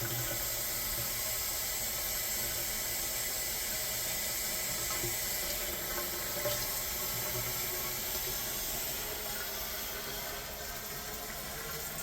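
Water rushes steadily into a clogged laundry drain, a constant, close hiss of flowing and filling that barely changes across the whole stretch, with no one speaking.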